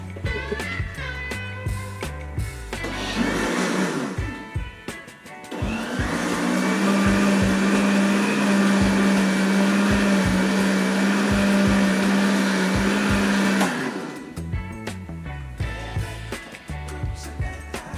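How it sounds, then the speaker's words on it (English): A blender whirs loudly for about nine seconds, blending a Kool-Aid ice cream mixture, with quieter handling and motor starts before and after the main run. "Now we're going to blend it."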